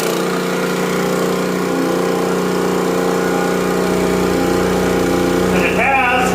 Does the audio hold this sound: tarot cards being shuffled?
no